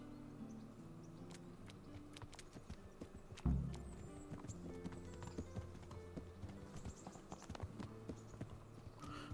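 Horses' hooves in the video game Kingdom Come: Deliverance clip-clop quickly and steadily at a moderate distance, a brief thud partway through, with no voices.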